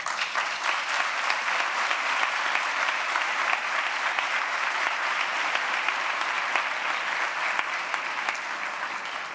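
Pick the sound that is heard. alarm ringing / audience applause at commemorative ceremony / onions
audience applause at commemorative ceremony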